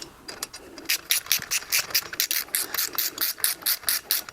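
A ratchet lightly nips up bolts on an MK Sport-200 front hub assembly, making a quick run of rapid, close clicking bursts in an even rhythm.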